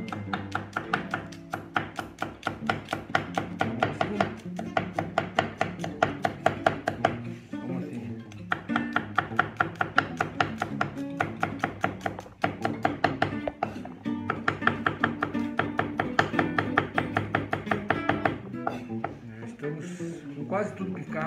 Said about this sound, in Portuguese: vamos picar esse alho todo junto aqui na tábua